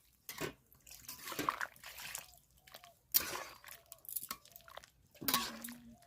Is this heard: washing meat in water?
yes